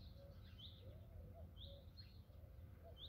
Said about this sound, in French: Une tourterelle.